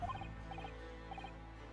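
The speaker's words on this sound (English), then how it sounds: "Were those birds inside or outside?" Birds in the video game The Great Ace Attorney: three short bursts of quiet chirps, each a quick cluster of notes, spaced about half a second apart over a soft steady background hum.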